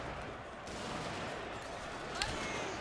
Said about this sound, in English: I guess my troops are shooting on my own troops